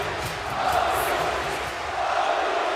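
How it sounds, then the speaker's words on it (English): Basketball arena crowd at a EuroBasket 2015 semifinal between Spain and France, roaring and chanting the name Tony in a steady, dense wall of cheering that swells slightly and holds throughout. "he gets a lift from the crowd and is cheering Tony, Tony."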